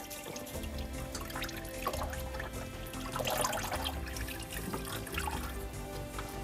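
Engine oil from a Vauxhall 2.0 CDTI trickles and drips out of the oil filter housing into a container below, a steady close-up liquid patter with a few louder splashes.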